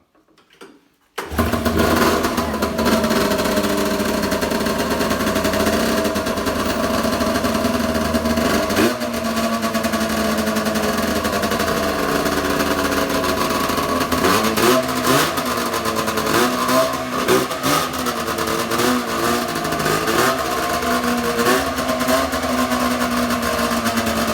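An XCR race snowmobile engine, choke on, catches after a short pull and runs loud and close for a long stretch, a raspy two-stroke-like idle broken by repeated sharp revs rising and falling.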